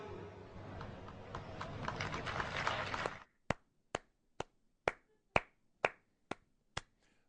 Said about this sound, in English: People were clapping for it